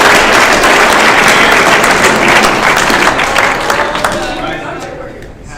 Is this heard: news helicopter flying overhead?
no